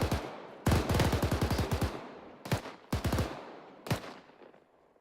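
Gunfire in a military simulation video game: rapid automatic bursts followed by a few short volleys and single shots, sharp and fairly close.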